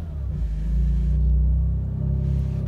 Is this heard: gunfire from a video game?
no